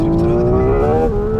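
Hyundai Ioniq 6 N electric car drifting in second gear, a loud, close, steady synthesized engine-like drone holding near its limit with a slight pitch rise and dip.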